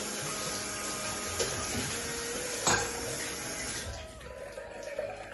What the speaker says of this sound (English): then you should wash your hands.